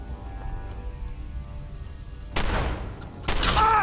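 Gunshots in Fallout 4 from a suppressed, hardened, piercing shotgun, two sharp, loud blasts about a second apart that stand out against a quiet ambient background.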